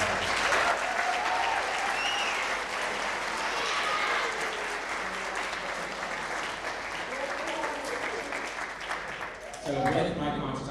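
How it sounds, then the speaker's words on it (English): Sustained audience applause at a middle school world percussion and steel band spring concert, a loud, dense wash of clapping across the whole stretch with crowd cheering and voices mixed in, dipping briefly near the end before swelling again. "so give them another round of applause"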